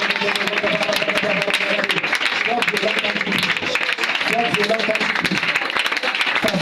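A church congregation claps and cheers steadily during fervent prayer at a deliverance service, with dense applause and crowd noise filling the space and voices mixed throughout.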